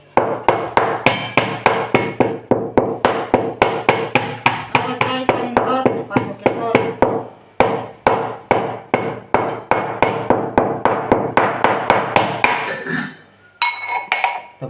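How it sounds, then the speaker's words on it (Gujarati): Rapid, steady pounding of cardamom with a pestle in a mortar, sharp metallic knocks repeating many times without pause, loud and close, with a brief break near the end. "અવાજ આવતો હોય છે ખાંડણીનો એડજસ્ટ કરું બહુ"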